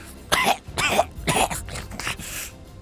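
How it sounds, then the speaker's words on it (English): A man coughs hoarsely several times in quick succession, loud and close, with short gasping pauses between the bursts. "He coughed again."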